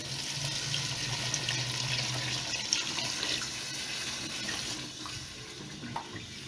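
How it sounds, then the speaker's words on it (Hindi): Meat stock poured into a pot of fried potatoes and meat, giving a steady splashing liquid stream that continues over several seconds and fades slightly at the end. "अब ये जो हमारे पास यखनी थी जो हम लोगों ने निकाली थी इसको बॉईल करते हुए, वो यखनी हम इसके अंदर डाल देंगे।"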